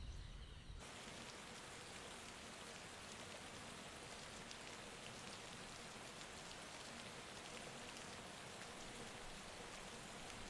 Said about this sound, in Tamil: ஓ என்ன மழை என்ன மழை?